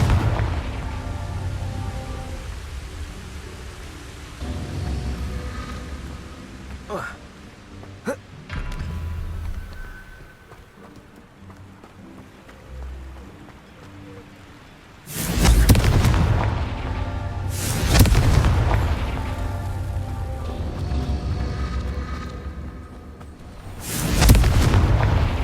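Confringo explosive spells blast in Hogwarts Legacy on PS5: after a quieter stretch with faint creaks, three heavy booming explosions erupt in turn, loud and rumbling, each trailing off before the next.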